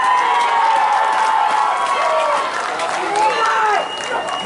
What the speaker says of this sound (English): Let's hear a big round for these coaches.